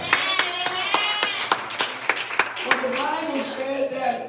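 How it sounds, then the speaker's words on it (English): A church congregation claps hands in an even rhythm during a sermon, sharp near claps for a few seconds that fade out under a speaking voice. "Come on, clap your hands one more time."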